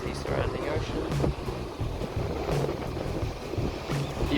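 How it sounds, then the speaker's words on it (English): From deck 18 at the back of the Costa Toscana cruise ship, open ocean wash mixes with gusty wind buffeting the microphone. The noise is steady and fairly loud, with occasional louder gusts. "This is the surrounding ocean."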